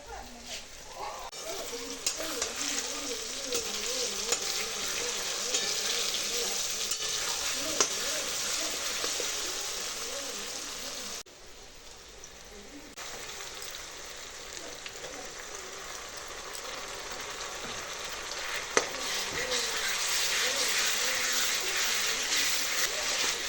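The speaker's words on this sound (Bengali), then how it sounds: "তো দেখা যাক পেঁয়াজটা কতটা ভাজা হলো।" Onions sizzle and fry in a pan for chicken curry, a steady soft crackling hiss throughout, with a brief quieter dip partway and faint clinks of stirring.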